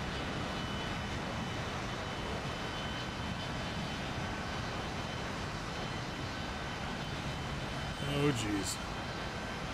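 A-10 Warthog ground attack jets making a formation takeoff in War Thunder, a steady loud engine roar throughout with a brief voice near the end.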